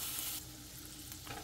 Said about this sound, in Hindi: बस आपने 1 मिनट के लिए इसको कुक करना है कि बटर सारा अच्छे से मेल्ट हो जाए